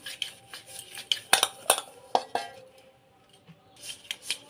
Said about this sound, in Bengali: বাটিতে একটু তেল নিয়ে নেব। তেলটা ভালো করে মাখিয়ে দেব।